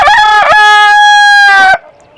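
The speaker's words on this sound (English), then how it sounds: "We know you're a big, beautiful rooster." A big rooster named Willie crows loudly and close by in one long sustained call that ends abruptly.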